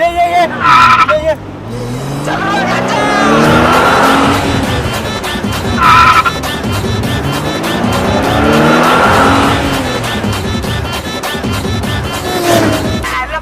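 A car race in a comedy sketch, with loud engine revving that rises and falls and tyres squealing in sharp bursts, while people shout over it.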